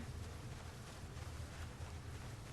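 Steady, faint wind rushes through a forest in Project Zomboid, a continuous broadband whoosh with no other sounds and no voices.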